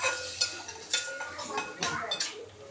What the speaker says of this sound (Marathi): आणि आता हे छान परतून घ्यायचं आहे, आणि सूपमध्ये आपल्याला हा मसाला थोडासा शिजवून घ्यायचा आहे.